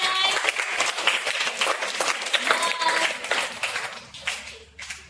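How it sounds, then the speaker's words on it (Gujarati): Children in a classroom clap together for a classmate, a dense burst of applause with scattered voices mixed in, steady and fairly close before thinning out near the end. "તાળી પાડો બધા."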